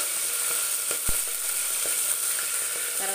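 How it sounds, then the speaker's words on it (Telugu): Onions and green chillies fry in hot oil with a steady, dense sizzle, close by, with a few faint spoon scrapes and one low knock partway through. "తర్వాత ఆనియన్స్ పచ్చిమిర్చి కూడా వేసేసుకొని కలుపుకోవాలి."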